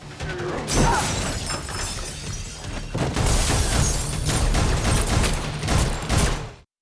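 A dense barrage of sharp cracks and bangs from a film action scene, like rapid gunfire mixed with shattering debris, loud and continuous for several seconds before cutting off.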